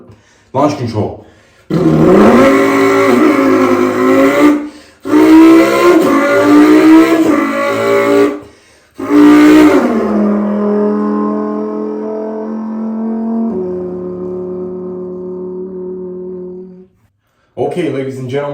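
Mouth imitation of a Lamborghini Huracan V10 doing a launch control start: a few loud revving blips with pauses, then a long rising scream through the gears that drops to a steady drone and cuts off.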